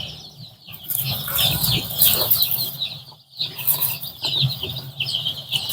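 Young black Andijan chicks, about five or six days old, peeping and clucking together in a brooder, a busy continuous chorus of shrill chirps with occasional wing flutters and brief pauses.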